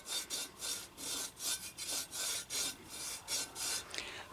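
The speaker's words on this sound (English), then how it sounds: "And this, listen to the grit." Gritty black powder residue left from almond shell charcoal, rubbed in a steady rhythm of about a dozen raspy scraping strokes, close and moderately loud with no talk.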